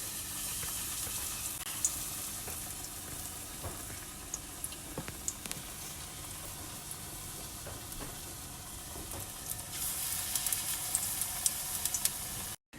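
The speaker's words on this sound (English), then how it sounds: "We're going to begin frying our pakora." Spinach, onion and potato pakoras frying in hot oil, a steady quiet sizzle and hiss with small crackles and pops scattered throughout, low in level and without voices.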